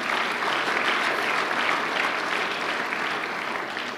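An audience at a Filipino religious broadcast hosted by Renato Carillo bursts into sustained applause, a thick, even roar of many clapping hands at steady volume with no voices.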